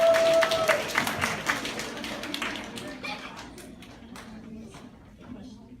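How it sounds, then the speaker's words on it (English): An audience of elementary students claps in a burst of applause that is loudest at first, then thins out and fades over several seconds. A voice is briefly heard near the start. "Give her a hand clap as she's come."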